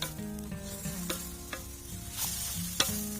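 Village chicken stir-fried with pounded chili-garlic curry paste outdoors in a rice field, a close sizzle with irregular spatula scrapes and knocks against the pan, and no voices.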